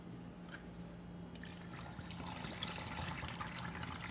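Water pours faintly from a bottle in a kitchen while a sugar syrup is being made, a soft trickling wash that starts partway through and continues steadily with no voices.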